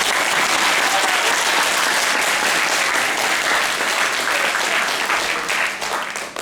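Wedding guests at a reception with a chainsaw juggler clap loudly and steadily, a dense sustained round of applause that tapers off at the end.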